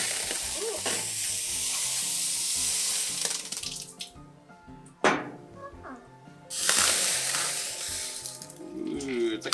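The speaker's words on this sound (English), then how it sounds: "if you want to cool the weld off quickly, you just pour a little water on it" Water poured onto a hot, freshly made weld gives a steady, broad hiss of sizzling steam that fades and then flares up again, with a child's and an adult's voices heard in between.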